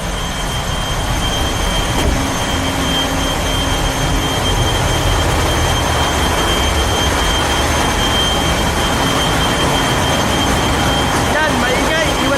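Loud, steady roar of ship engine room machinery, a constant dense broadband drone with tonal hums, filling the space without pause from start to end.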